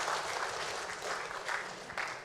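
An audience at a Vanuatu community fellowship gathering in Mildura applauds, a fairly faint, steady patter of clapping heard from a distance.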